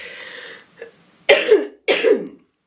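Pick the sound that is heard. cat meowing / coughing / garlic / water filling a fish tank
coughing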